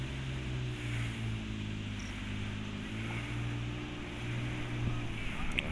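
A low, steady engine rumble of an 80-year-old World War II GMC army truck idling nearby, with a faint wind-like hiss over it.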